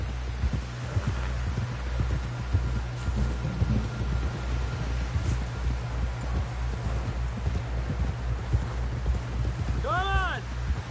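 Horse hooves clop in a steady, rapid rhythm in Red Dead Redemption 2, close and continuous beneath a low rumble, with voices calling out briefly over the galloping.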